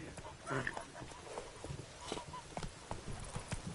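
Roach the horse in The Witcher 3 moving in a quick, uneven clip-clop of hooves at moderate distance, heard under a man's speech.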